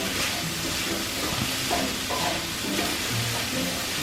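Vegan sausage stuffing mixture with fresh parsley sizzles steadily in a pan, a soft continuous frying hiss with occasional scraping stirs, fairly quiet and close.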